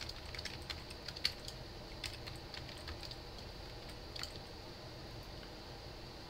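Code typed on a computer keyboard gives soft, quick clicks and taps in irregular bursts, close and quiet, with no talking.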